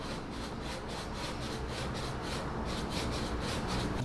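A finger rubs hard, stiff suede on a Nike Dunk Low, giving a steady, close, dry scraping rasp that continues unbroken with even loudness and no talking.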